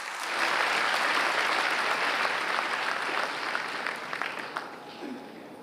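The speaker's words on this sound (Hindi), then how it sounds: "जी बहुत जोरदार तालियां इनके लिए" Loud, dense applause from a large crowd greets pilgrims arriving after a 1400-kilometre walk, a steady roar of clapping that holds strong and tapers slightly toward the end.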